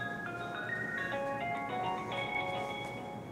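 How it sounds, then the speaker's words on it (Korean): A telephone call is being placed, and a ringing tone of bright electronic melodic beeps plays steadily for a few seconds, moderately loud and with no talk over it. "생각난 김에 전화 한번 해볼까요?"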